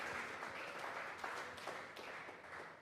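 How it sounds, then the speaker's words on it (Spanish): A church congregation applauds together in praise during a worship service, a steady wash of many hands clapping at moderate volume with brief louder swells, no voices standing out. "Vamos a regalarle ofrenda de palmas al Dios de la gloria"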